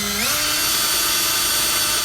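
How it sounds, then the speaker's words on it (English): A power drill spins up and bores steady pilot holes during a SumoSprings Maxim helper spring install on a 2019 Ford, its motor whine holding a constant pitch right up close and alone. "get all your pilot holes drilled out"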